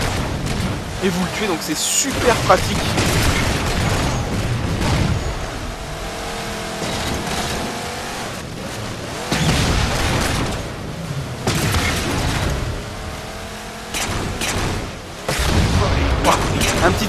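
Ghost cannon shots and explosions from the video game Halo 4 in a Big Team Battle match on the Exile map, loud repeated blasts and vehicle engine roar under someone talking in French.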